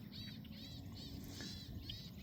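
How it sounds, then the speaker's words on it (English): A distressed mother bird calls outdoors along a walking trail, repeated thin chirping bursts in quick succession, faint and somewhat distant over a low background hum. "Now there's a distressed mama bird,"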